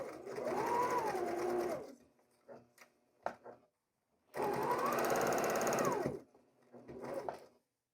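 A sewing machine stitches quilt rows together along nested seams in two long, steady bursts, loud and close, with brief quiet handling sounds and fabric shuffling in between.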